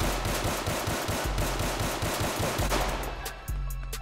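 A G19X pistol in a video game fires rapidly in full-auto bursts, dense repeated loud shots in a fast steady rhythm that continue without pause to the end.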